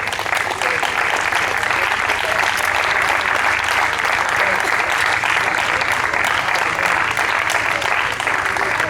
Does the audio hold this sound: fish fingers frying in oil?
no